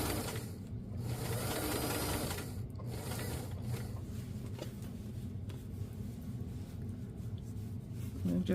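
Sewing machine stitching a zipper onto a winter puffer coat, a steady close mechanical whirring with brief stops and restarts between runs of small stitches.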